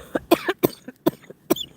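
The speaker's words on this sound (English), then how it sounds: "I don't mean to be coughing like that." A run of about five harsh, wet coughs in quick succession, close and loud, with no talking.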